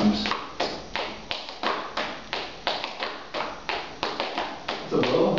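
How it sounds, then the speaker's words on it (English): Flatfoot dance Bowman step at full tempo, a quick, steady run of sharp foot taps and heel thuds on a hard floor, close and fairly faint, in a regular rhythmic pattern for several seconds. "You're going to hear a change, and it's going to be a Bowman happening at full tempo."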